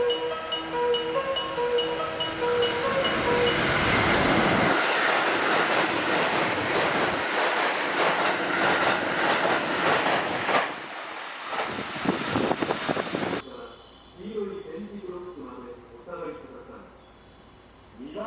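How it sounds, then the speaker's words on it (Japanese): A train passes through platform 2 of a Japanese railway station, a loud rushing roar with rattling wheel noise building and fading, followed by quieter station ambience with a platform announcement voice. "まもなく2番乗り場を列車が通過します。"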